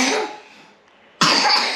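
A young girl gives two harsh, close coughs separated by a short quiet gap, loud and raspy with no talking around them.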